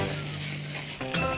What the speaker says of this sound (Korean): 지글지글. 버글버글.